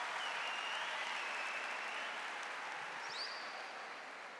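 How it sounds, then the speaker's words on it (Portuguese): An audience gives a sustained round of applause for a speaker at a Catholic talk, a dense, even wash of many hands that holds steady and slowly tapers, with faint voices above it. "Uma salva de palmas para o Lucas."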